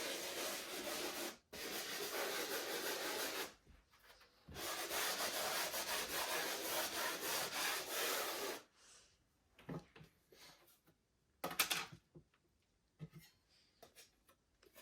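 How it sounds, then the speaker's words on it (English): A sponge sander scuffs dried drywall compound over a small patched hole, with close, abrasive rubbing strokes in long bursts, then shorter, fainter scrapes separated by quiet gaps. "you're going to take your sponge sander. You're going to give it just a little scuff"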